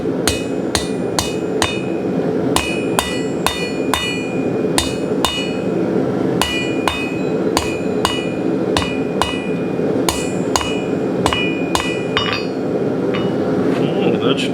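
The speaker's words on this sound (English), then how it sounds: "hammer that end a little bit." A hammer strikes the end of a steel center punch in repeated sharp metallic blows, close and loud, in an uneven rhythm of a dozen or more hits.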